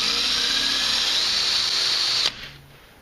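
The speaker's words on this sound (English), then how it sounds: "drill and re-drill a new hole" A high, steady power drill whine, drilling a hole in a metal camshaft sprocket, runs continuously for over two seconds, then cuts off abruptly, leaving quiet room tone.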